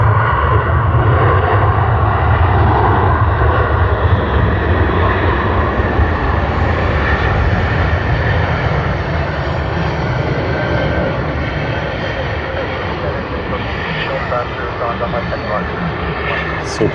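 A loud, sustained roar of aircraft engines at Sydney Airport fills the whole stretch, a broad, continuous rumble that eases slightly toward the end, with voices talking over it.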